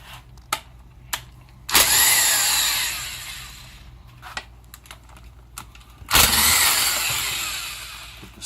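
A 10 mm tool, likely an impact driver, removes the lid bolts from a Tremec T5 transmission case, with a few sharp clicks and taps, then two loud whirring bursts that each trail off, nearby and without talk.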